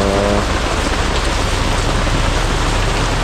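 Heavy rain pours steadily, a dense, loud, continuous hiss of drops on surfaces with no pauses, filling the whole stretch without any talk.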